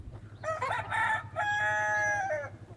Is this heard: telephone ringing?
no